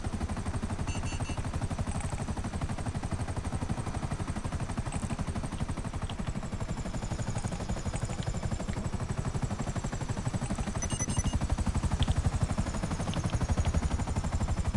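A helicopter in the GTA video game drones on with a steady, rapid rotor chop throughout, moderately loud, with no talking.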